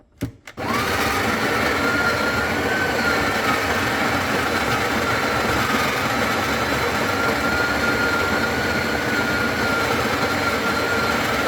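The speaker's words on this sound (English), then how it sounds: "we're going to actually have a look at the dB difference with the Breville Barista Express grinder" Built-in conical burr grinder of a Breville Barista Express espresso machine grinding coffee beans, a steady loud whirring drone that starts abruptly after a brief click and runs unbroken to the end.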